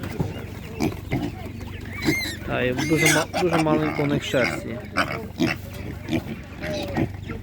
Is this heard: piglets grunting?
yes